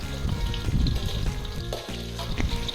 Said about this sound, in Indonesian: goreng bawang merah dan juga bawang putih sampai layu